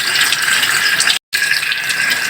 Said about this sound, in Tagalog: Hugasan rin natin yung kamatis.